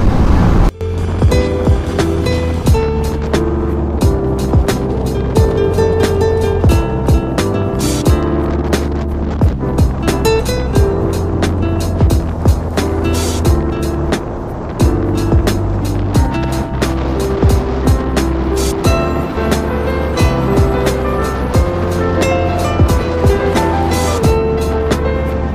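Loud, continuous motorcycle engine and wind roar on a highway ride toward Ipoh, with a rapid metallic rattle from a detached, broken exhaust running through it and no pause.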